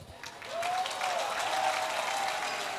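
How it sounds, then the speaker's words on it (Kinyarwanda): A church congregation breaks into applause to welcome the pastor, a swelling wash of clapping that rises after a quiet start and holds steady, with a faint tonal whistle riding over it. "Amashyi menshi cyane twakire umushumba"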